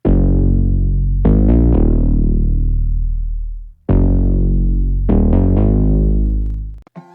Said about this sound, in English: So this is more of a sustained sound based on saw waves.